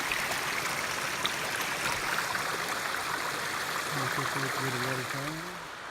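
Creek water flows steadily along a hiking trail in a wooded valley below a rock glacier on the Ouachita Trail, a continuous broad rushing wash close by. A faint voice-like tone briefly rises near the end.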